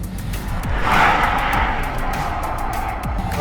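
A 900-horsepower Lotus Eletre R electric SUV launches hard in track mode with its rear sliding: a surging rush of tyre and road roar swells near the start, then a sustained rumbling drone continues with no one speaking.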